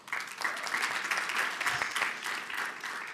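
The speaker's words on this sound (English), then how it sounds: "A round of applause." Audience applause at a debate finals event, steady clapping from a crowd throughout, moderately distant and even in level.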